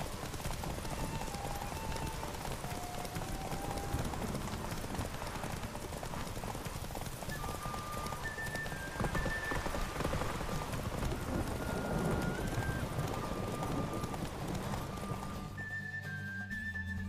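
Hooves of the horse Roach in Witcher 3 clip-clop in a steady trotting rhythm against rain pattering on the ground, with faint game music tones above and brief voice-like sounds.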